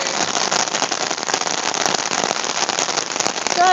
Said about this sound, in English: It's like pouring off the umbrella.